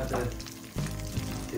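Onions dropped into a hot pan for butter chicken, a medium-high burner going: steady close sizzling with bursts of crackle, and faint kitchen noise behind it.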